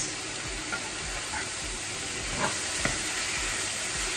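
Ingredients for paella, including fresh ginger, fry and brown in a pan, a steady close sizzle and hiss with a few soft stirring clicks and no talking.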